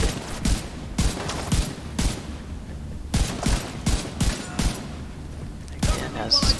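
Rifle gunfire in the shooter game The Division 2, fired in rapid bursts of sharp cracks with short pauses between them, about a dozen shots in quick rhythm, loud and close with no talking over it.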